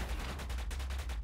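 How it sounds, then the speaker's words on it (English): In the video game Orbital Bullet, a rocket launcher fires as a rapid, evenly spaced stream of punchy bursts over a heavy low rumble, loud and continuous for the whole moment. "It's a rocket launcher."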